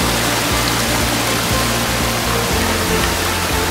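A powerful waterfall roars up close, a dense continuous rush of falling water with a low rumbling undertone and no voices.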